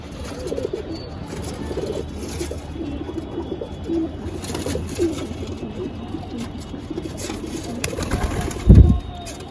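Andhra and Madras pigeons cooing inside a loft, a steady low chorus of soft, overlapping coos close by, with a brief louder flutter or thump near the end.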